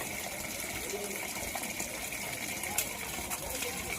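Water gushes steadily during washing, a continuous broadband rush close by with a few faint clinks and taps over it, and some indistinct voice mixed in.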